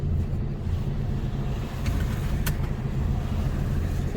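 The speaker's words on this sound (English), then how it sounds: "3 cars coming." Low rumbling road noise from cars passing on a UK road, heard from inside a Mercedes Actros truck cab, steady and fairly faint with a slight swell as vehicles go by.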